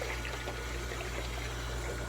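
Water running through a swimming pool filter during a backwash, a steady, continuous rushing flow with a low hum beneath it, even in level throughout and with no voices.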